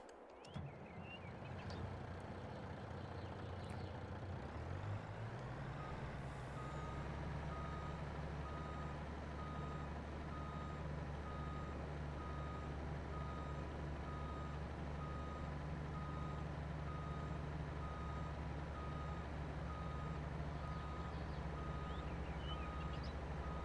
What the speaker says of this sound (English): Let's go move our truck backwards some more.